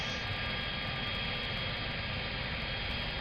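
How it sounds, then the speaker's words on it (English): A Chinook helicopter's engine runs during start-up as the rotor blades begin turning, a steady, dense whining roar that holds level throughout, close and continuous. "Blades turning."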